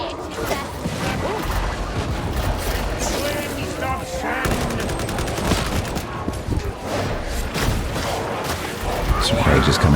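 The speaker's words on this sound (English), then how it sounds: "I'm trying to just litter the area with bullets." Dense, continuous gunfire from the video game Darktide fills the clip, with rapid overlapping shots and a heavy layer of battle noise. Someone talks over the shooting.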